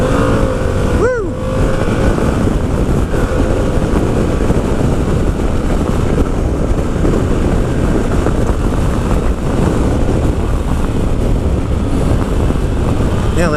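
Steady, loud engine and wind roar from a Harley-Davidson Pan America ST motorcycle on a demo ride, running continuously with a brief rising whine early on, wind buffeting the microphone throughout.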